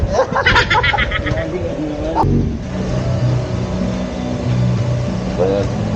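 A motorcycle revs hard at full throttle in first gear, its engine loud and close and sustained through the clip, with a brief shift in tone midway and people talking over it.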